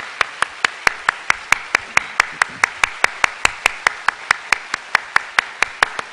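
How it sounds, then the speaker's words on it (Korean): Church congregation applauding in welcome of newcomers, steady rhythmic handclaps repeating evenly throughout, fairly close and alone without talk. "박수로 환영하겠습니다."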